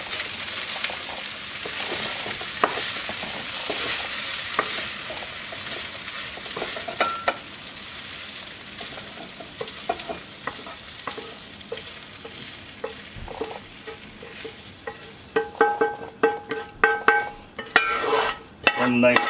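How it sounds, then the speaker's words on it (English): Chicken fried rice scraped and transferred from a non-stick pan into a bowl, with a steady sizzle and stirring scrapes throughout that give way to sharper, louder clinks and scrapes near the end, up close with no talk. "I'm just going to go ahead and transfer this into a bowl"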